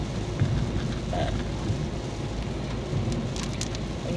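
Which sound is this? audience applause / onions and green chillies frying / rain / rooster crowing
rain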